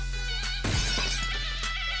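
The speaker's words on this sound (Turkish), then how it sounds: "Cam kırılıyor." Glass shatters once with a sharp crash during a lively group contest show, standing out loud against a steady low hum, then fading into scattered fragments.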